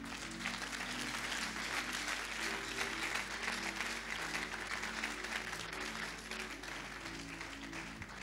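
An audience at a church gathering gives steady, full applause, many hands clapping at an even level throughout over a low background hum.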